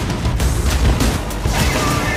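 Battle explosions and gunfire from a film in which a warship and its soldiers firing cannons and mounted machine guns fight an alien ship at sea; a dense, continuous barrage of booms and blasts fills the whole stretch with no clear gaps.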